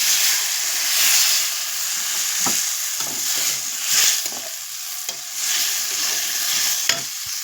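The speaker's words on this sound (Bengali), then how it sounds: "আর একটু ভালোভাবে কষে নেব।" Bitter gourd, potato and drumstick sautéed in a pan hiss and sizzle steadily while a spoon stirs them, scraping and clattering against the pan at close range.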